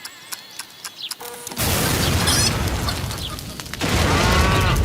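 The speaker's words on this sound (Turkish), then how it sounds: "Uh-oh, yine bir şeyler patladı." After some ticking and mechanical clicks, a sudden loud cartoon explosion erupts into a sustained roaring rumble, followed by a second surge of crackling noise.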